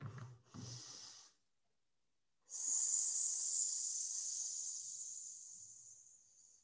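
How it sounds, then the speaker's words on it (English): A short breath comes in through the nose, then after a pause a long, slow exhale leaves through the mouth during a breathing exercise. The exhale is a steady airy hiss that fades gradually over about four seconds. "So I'm breathing in through my nose for 3 and out through my mouth for 6."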